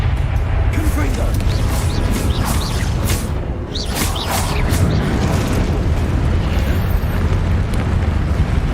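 Confringo spell blasts in the video game Hogwarts Legacy, a loud rumbling roar of fiery explosions with whooshing bursts, continuous and dense, while a voice calls out over the game audio.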